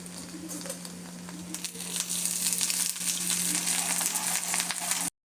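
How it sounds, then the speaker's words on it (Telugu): Ginger paste frying in hot oil for an egg pickle, a steady bright sizzle that grows louder after the first couple of seconds and continues unbroken close up before cutting off abruptly. "అల్లం పేస్ట్ వేసుకొని కొంచెం బాగా పచ్చివాసన పోయే వరకు ఫ్రై చేసుకుందాం"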